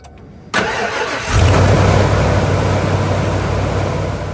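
A car engine cranks briefly and fires up, settling into a steady, loud idle close by; the start follows a fresh oil change.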